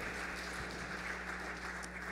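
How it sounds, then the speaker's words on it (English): Church congregation at a Sunday service applauding, a steady faint wash of clapping heard at a distance with a low electrical hum beneath. "Can you give Tim a round of applause"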